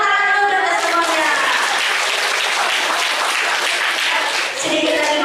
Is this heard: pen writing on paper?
no